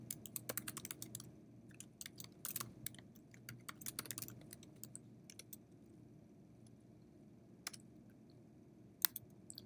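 Rapid typing on a computer keyboard, with quick irregular keystroke clicks and a few sharper louder taps, heard close and alone over a low steady room hum.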